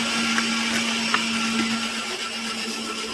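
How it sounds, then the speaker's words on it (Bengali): A grinder runs on onion paste with spices such as nigella seeds and fenugreek, plus hibiscus, for a homemade hair pack, giving a steady, close motor drone with a constant hum and faint clicks, with no talk. "এই যে মা এখানে বাটছে, এখানে পেঁয়াজ বাটা রয়েছে"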